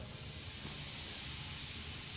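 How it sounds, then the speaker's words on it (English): Steam hissing from leaking pipes in the horror game Moons of Madness, a steady broadband hiss that continues without a break under a faint low hum, alone with no talk. "I gotta keep an eye on that steam so I don't get burned."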